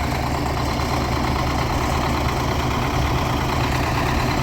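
A tractor engine idles while warming up before ploughing, a steady, loud, continuous low rumble close by that never changes, with no talking over it.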